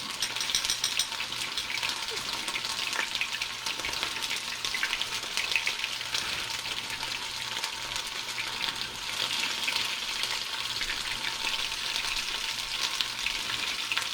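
Sand perch sizzles in a hot frying pan, a steady, close crackle and hiss that runs unbroken throughout with no clear talk over it.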